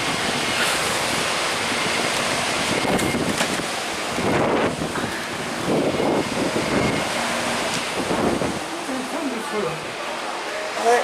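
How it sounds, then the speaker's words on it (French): Strong wind buffets the open deck of the MSC Splendida cruise ship on the Mediterranean, a loud continuous roar with surging gusts and the wash of the sea, as voices talk under it. "Il y a du fort vent."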